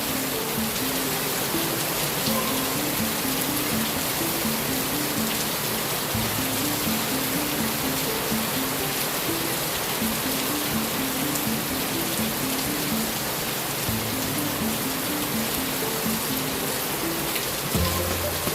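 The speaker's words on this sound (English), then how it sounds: "so that water comes right off the roof onto the ground" Heavy rain pours steadily off a roof with no gutters and splashes onto the ground below, a dense, loud, continuous rushing wash with no voices.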